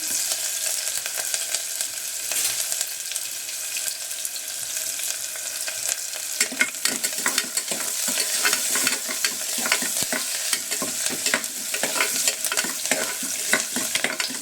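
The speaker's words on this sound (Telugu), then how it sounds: "ఒక ఎర్రగడ్డ కట్ చేసుకున్నానండి, వేసుకొని ఫ్రై చేసుకోవాలి" Chopped onions frying in a pan for chicken biryani, a steady sizzle with stirring scrapes that grow busier and louder partway through, no voices.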